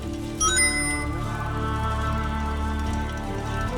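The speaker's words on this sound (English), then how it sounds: "It grows only by the water and makes a unique chiming noise." A Nirnroot plant by the water in the Skyrim video game gives off its bright, ringing chime, which fades slowly over a steady ambient game backdrop.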